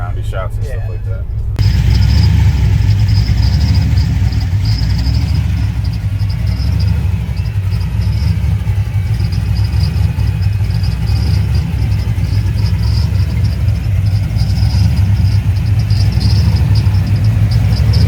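A Chevy LS V8 swapped into a Ford F150 idles with dumped exhaust, a loud, steady low rumble holding close and constant for nearly the whole stretch after a brief opening noise.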